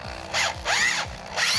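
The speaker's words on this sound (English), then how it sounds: "Don, I'm going to run this down. We're going to seat it, and then we'll finish it off" A power driver runs down and seats a Taptite Pro thread-rolling fastener, giving several whirring, rising-and-falling bursts of motor and screw noise in short repeated pulses, close and fairly loud, with no talk.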